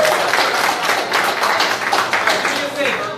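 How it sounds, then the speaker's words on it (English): A church audience claps in steady, dense applause, loud and fairly close, lasting a few seconds before trailing off. "So at least he gets a round of applause"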